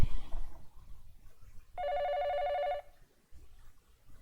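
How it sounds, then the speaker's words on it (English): A telephone in the video game 428 Shibuya Scramble gives a single electronic ring lasting about a second, loud and clean against a quiet background. "The phone is ringing."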